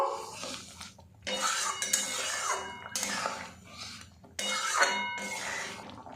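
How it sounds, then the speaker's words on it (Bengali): Paneer pieces are stirred into mung dal in a pan, making repeated bursts of clinking and scraping of a spoon against the pan with short pauses between, close and fairly loud. "সবগুলো পনিরের টুকরো এর মধ্যে আমি দিয়ে দেব হালকা হাতে একটু নাড়াচাড়া করে দেব"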